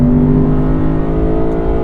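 A naturally aspirated V8 in a 2023 Lexus IS 500 hums loudly and steadily, a close, sustained engine drone with layered harmonics and no clear rise or fall in pitch.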